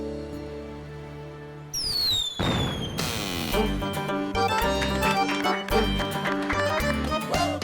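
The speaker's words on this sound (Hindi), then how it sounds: "ये बच्चे अभी से क्या पटाखे दगा रहे हैं?" Firecrackers going off outside, a burst of sharp bangs and crackles breaking over a musical background score and continuing for several seconds.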